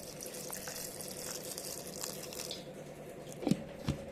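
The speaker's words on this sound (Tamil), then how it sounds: "இதில் கொஞ்சோண்டு தண்ணி ஊற்றிக்கலாம் அரைக்கிறதுக்கு." Water is poured into a mixer grinder jar holding rice for grinding, a steady close splashing pour lasting a few seconds, easing off into a couple of drips and small knocks at the end.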